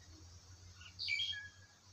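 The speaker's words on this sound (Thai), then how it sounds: "ฟังเสียงนกนะคะ" Several birds calling near rice fields, with a few faint, high chirps and twitters clustered midway through, set over a low, steady background hum.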